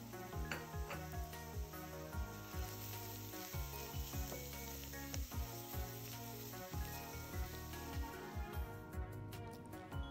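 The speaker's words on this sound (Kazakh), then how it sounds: "ұсақтап тұрылған бір пиязды қуырамыз" Chopped onion and grated carrot sizzle steadily in hot oil, with occasional scraping and stirring sounds from a pan, close up and continuous throughout.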